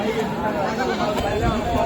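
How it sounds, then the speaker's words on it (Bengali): Castrated goats bleat at a busy livestock market in Taherpur, Rajshahi, their calls rising over a constant crowd murmur and nearby chatter. "স্যার এগুলো খাসি ছাগল না"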